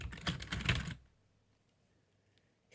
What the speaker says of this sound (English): Squeak's claws clicked nervously against the keys.